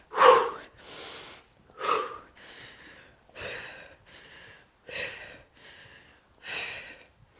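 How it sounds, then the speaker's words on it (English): Heavy, rhythmic breaths during a lunge workout, sharp inhales and forceful exhales repeating roughly every second and a half, close to the microphone with no talking. "Big breath in through your nose, out your mouth."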